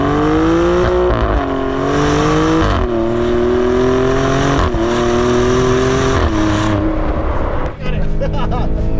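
A Maserati sports car engine revs hard on a launch and climbs through gears in repeated rising surges, loud and close, with people talking over it.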